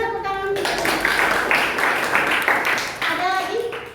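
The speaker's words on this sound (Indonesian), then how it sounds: "Ya, kasih tepuk tangan" Students in a classroom give a round of applause, a steady patter of many hands clapping for a few seconds, with a voice briefly heard at the start and end.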